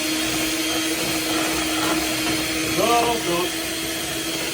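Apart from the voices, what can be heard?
electric mixer mixing creme mousseline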